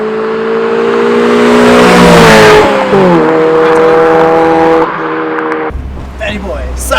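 A Mazda Miata NB with a shifter kit revs hard and accelerates, engine note climbing loud and close, dropping briefly at a shift, then cutting off abruptly.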